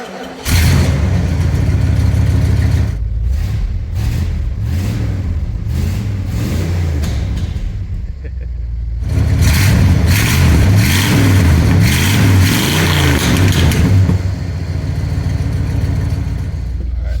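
An old 50-year-old Ford camper engine cranks and catches, then revs loudly and settles, rising again into strong, sustained revving close by, with no talking over it.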